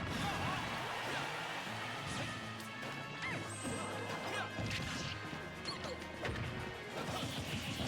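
Down smash attacks landing in a video game during a bracket run, heard as loud, dense crashing and smacking impacts layered with busy game effects and background music throughout.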